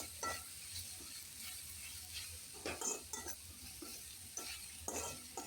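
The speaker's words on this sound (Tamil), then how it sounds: "நம்ம துருவி வச்சுருந்தோம்ல தேங்காய், அதையும் இதோட சேர்த்து நல்லா கிளறி விட்டுறலாம்." Goat blood fry with grated coconut stirred in a pan, a quiet sizzle under repeated scraping strokes from a spoon, some quick and clustered, others spaced apart.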